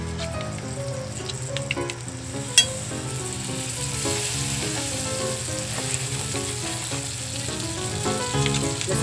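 Margarine melting in a hot pan gives a steady, close sizzle and crackle with scattered pops, including one sharp pop partway through, and no talking.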